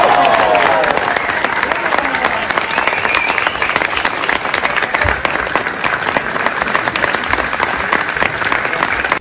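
A theatre audience at a touring musical show applauds loudly for the performer who played Zia, a thick, continuous roar of clapping sustained throughout, with crowd noise mixed in.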